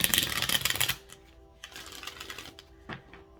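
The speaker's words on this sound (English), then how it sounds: "we'll do a hard shuffle here by threes" Tarot cards given a hard shuffle, a loud rapid riffle for about a second, followed by softer intermittent card taps and slides.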